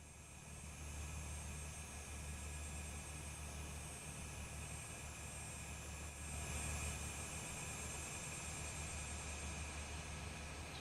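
A jet aircraft departing in a flight simulator game, a steady, dense engine roar that holds for the whole stretch at an even, moderate level with a faint tonal whine on top.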